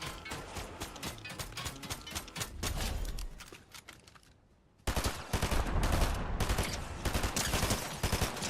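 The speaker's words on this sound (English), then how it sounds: "got him at that distance with the SMG" Rapid SMG bursts in Fortnite, a dense stream of close, loud shots that pause briefly before another sustained volley of rapid fire.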